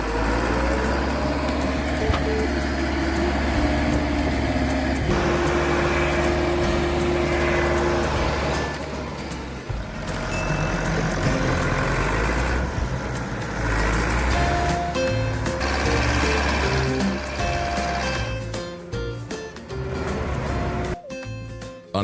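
A blue MF 290 tractor stuck in a field labours with a loud, continuous engine drone that rises and dips as it strains, and its wheels grind without moving it.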